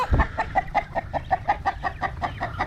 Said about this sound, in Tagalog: Ayan, native manok.